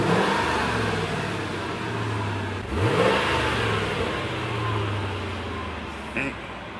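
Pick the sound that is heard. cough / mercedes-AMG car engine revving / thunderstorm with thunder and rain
mercedes-AMG car engine revving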